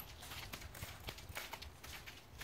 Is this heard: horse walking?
yes